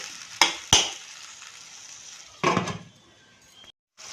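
Tomato dry fish curry cooking in a pan, with a steady soft sizzle broken by a couple of sharp clinks near the start and a brief rustling burst of stirring later, then a short drop to silence.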